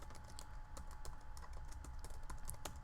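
Someone types into a search bar on a computer keyboard. The keys click in a quick, irregular run of soft taps, close up but quiet, with no speech.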